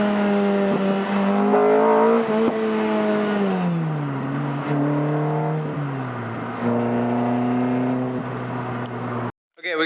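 A Lotus Exige's JanSpeed aftermarket exhaust drones loudly and steadily, its deep note rising and falling with changes in revs, close by and continuous for nearly ten seconds.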